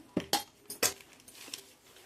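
A serving spoon and new cooking pots handled together, a few bright metallic clinks and taps close by, then softer knocks, with no talking.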